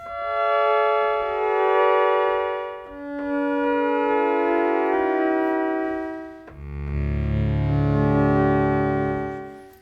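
A Casio Casiotone 405 synthesizer in synthesis mode with both modulation switches engaged: a sustained, buzzy tone shifts between held pitches, its timbre slowly wavering and modulating with a rhythmic pulse.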